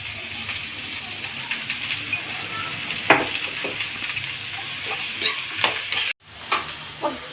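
Onions with curry leaves fry in a pan for a steady close sizzle, broken by a few sharp scrapes and clinks of stirring and a brief drop-out near the end.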